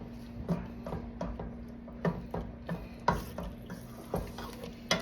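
Pancit ingredients and chicken livers sautéing in a pan, with a utensil scraping and tapping in irregular strokes over a soft, continuous sizzle, close and moderately quiet.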